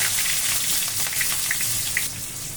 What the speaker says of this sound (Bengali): এখন আমি দিয়ে দেব রসুন কুচি আর পেঁয়াজ কুচি।